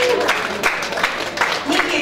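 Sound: wedding guests applauding

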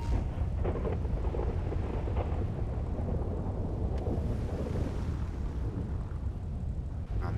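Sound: thunderstorm with rain, Halloween weather in GTA Online video game

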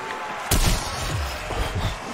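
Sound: shotgun firing in Call of Duty Cold War Zombies video game

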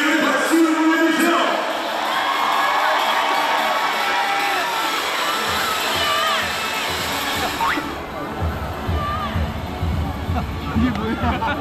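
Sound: stadium crowd applauding and cheering at home run race

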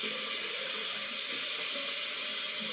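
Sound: hot water running from a tap

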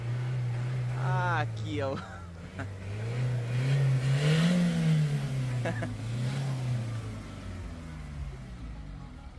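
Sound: Mazda CX-3 1500cc engine revving

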